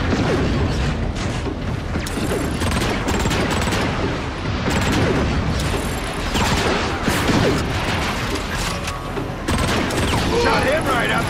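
Dense, continuous gunfire and explosions fill a battle in the video game Transformers: Fall of Cybertron, loud and unbroken, with rapid bursts and booms layered over game music and effects.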